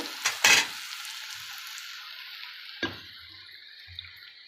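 Dried fish thokku sizzling and frying in a pan, with a couple of sharp scraping stirs near the start and a lighter one later over a steady hiss of oil.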